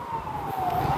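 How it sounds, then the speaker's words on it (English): A wailing emergency siren sweeps steadily over a low rumble of New York City traffic near the Brooklyn Bridge, loud and fairly close, with no talking. "The sound that you hear, the sirens, that is like total New York sound."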